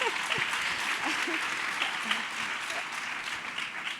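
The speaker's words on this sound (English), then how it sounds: "Please, you have to clap for that." An audience at a fireside chat claps steadily in a moderate, even wash of applause, with a few murmured voices underneath.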